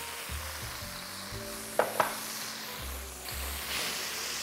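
Garlic sizzles in hot oil with soy sauce in a thin pan, a quiet steady frying hiss with a couple of brief clicks partway through.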